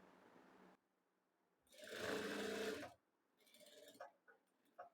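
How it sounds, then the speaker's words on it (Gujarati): A sewing machine runs an edge seam along the neckline of a designer kurti, one loud steady whirring run of stitching in the middle, followed by shorter, quieter bursts and clicks. "આ રીતે મેં ધાર સિલાઈ લગાડી દીધી છે."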